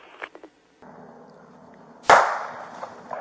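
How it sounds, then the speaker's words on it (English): A single gunshot fired at a Florida sheriff's deputy by a juvenile suspect outside a house cracks out sharply, loud and close, after a few faint thumps and a low background hum, with its echo trailing away afterward. "Shots fired at me again. Juvenile male fired that round."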